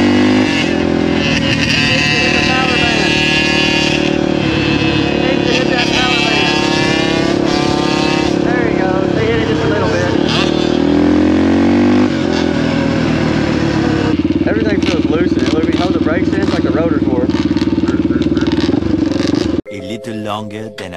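Suzuki RM125 two-stroke motorcycle at full throttle, the engine screaming loud and close with rising and falling revs through the power band for about twenty seconds, ending in an abrupt drop.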